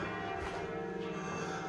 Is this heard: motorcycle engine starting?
no